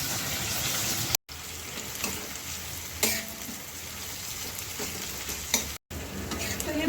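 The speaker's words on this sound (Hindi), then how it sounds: "अब हम प्याज को ब्राउन होने देंगे थोड़ा।" Onions frying in a hot pan while cooking karela, a continuous crackling sizzle broken by a few scraping stirs and two brief gaps in the sound.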